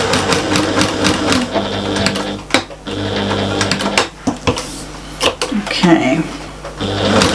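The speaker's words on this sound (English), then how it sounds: "we're just stitching along these folded ends now" A sewing machine stitches along the folded ends of a large shopper bag with fast, close mechanical whirring in bursts separated by brief pauses and clicks, while a person speaks briefly.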